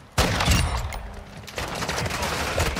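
Shotgun blasts in a first-person shooter video game, a sharp loud report followed by ongoing rattling gunfire and a second burst, close and harsh.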